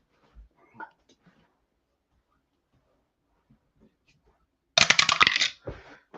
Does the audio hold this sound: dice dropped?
yes